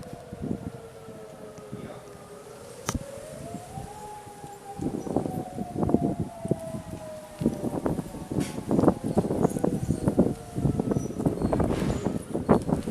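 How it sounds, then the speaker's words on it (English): A dual-tone tornado civil defense siren sounds during a scheduled test, its rising and falling wail steady in the distance while wind rumbles across the microphone and a voice speaks faintly. "First time recording the siren off of this."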